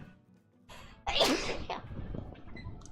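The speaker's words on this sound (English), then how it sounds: "I'm going to sneeze and deafen everybody." A single loud sneeze bursts out close to the microphone after a quiet breathy intake, followed by a trailing exhale and soft mouth sounds in a quiet room.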